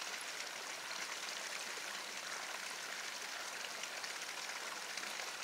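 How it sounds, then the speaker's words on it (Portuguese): Tap water pouring into a cooking pot while chicken feet are being prepared, a steady splashing hiss that runs evenly and moderately loud from start to finish. "Vou colocar mais água aqui pra fazer os pezinhos"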